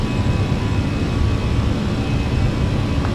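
A Delta jet airliner roars close by as its engines run at takeoff thrust on runway 24 left at Los Angeles, heading for Portland. The rumble is loud and constant throughout.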